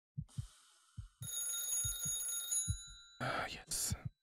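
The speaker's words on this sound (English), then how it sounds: "It's weird how the phone still rings when I still have it in my hands." A phone rings in the video game Calm Down, Stalin, with a shrill electronic bell trilling steadily for over a second, broken off, then returning in short bursts, over soft rhythmic thumps and a speaking voice.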